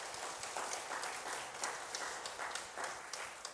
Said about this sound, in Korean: 우리 축하의 박수 한번 하겠습니다.